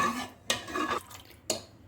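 Stirring semolina and water in a cooking pot: a utensil scrapes and swishes through liquid, with two sharp clinks against the pot's rim.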